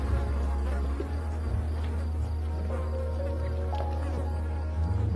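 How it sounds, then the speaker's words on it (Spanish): Flies buzzing around a lion kill carcass on the African savanna, a close, steady insect drone with a low hum and shifting pitch as they move about, no talk. "Las moscas se ceban con la carne de los vencidos y con las caras de los vencedores."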